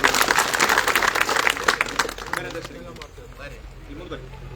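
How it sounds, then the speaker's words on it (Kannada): A protest audience claps to welcome a district president, with dense applause for a couple of seconds that then thins out while someone speaks over it. "ಚಪ್ಪಾಳೆ ಮೂಲಕ ಸ್ವಾಗತ"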